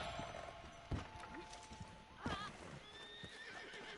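A horse in Red Dead Redemption Online neighs and whinnies amid the steady clip-clop of hooves, heard fairly quietly over a low game background with no talk.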